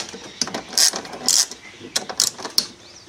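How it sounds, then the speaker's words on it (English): A wrench loosening bolts on a Vectrix electric scooter during disassembly, heard as a close series of quick metallic ratcheting clicks in short irregular bursts. "You might have to loosen a lot of these off with a wrench first"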